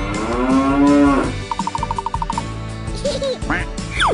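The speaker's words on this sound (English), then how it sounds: "Cow." Loud, close cow mooing: a long, drawn-out low moo, then a short rapid series of duck-like quacks and a few brief animal calls, typical of a children's animal toy or cartoon.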